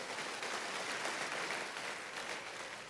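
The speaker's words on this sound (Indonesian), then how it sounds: "Ayo tepuk tangannya yang paling meriah buat Tuhan kita." Audience applause in a church during a sermon, a steady wash of many hands clapping throughout, moderately loud and sustained with no talk over it.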